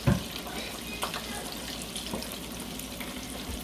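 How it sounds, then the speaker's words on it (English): Vinegar poured from close by into a cooking pot for an escovitch fish sauce, a steady splashing trickle with a brief heavier splash at the start. "Alright, so in my pot here, I'm gonna add my vinegar in. All my vinegar in the pot."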